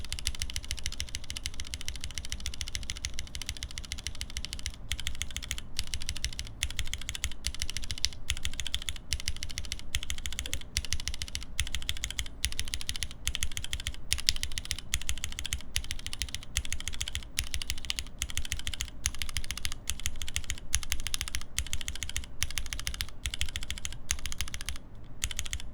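Typing on a mechanical keyboard fitted with KLC switch dampeners, a fast, steady patter of muted keystrokes with occasional louder clacks, close and alone over faint background hum.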